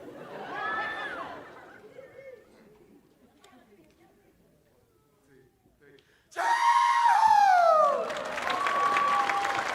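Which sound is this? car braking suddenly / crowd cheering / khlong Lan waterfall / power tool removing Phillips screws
crowd cheering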